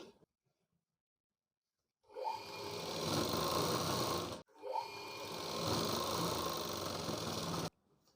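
A sewing machine stitches a folded blouse hem in two runs, each a few seconds long, with a short break between them after a quiet start. The motor whirs steadily and close by, with no voices.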